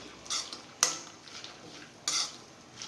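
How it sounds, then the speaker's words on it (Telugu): Cashews and almonds frying in a pan for Bombay halwa, with a spoon scraping and knocking against the metal in a few sharp strokes over a soft sizzle, close up and with no talking. "నా దగ్గర జీడిపప్పు బాదం పప్పు ఉన్నాయి వీటిని ఇందులో వేసి వేయించుకుందాం"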